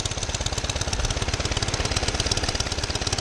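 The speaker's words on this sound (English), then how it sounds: "It idles." A 1947 Whizzer motorbike engine idles steadily after a top-end rebuild, a close, even stream of rapid, regular thumping pulses with no misses or pops and no one talking over it.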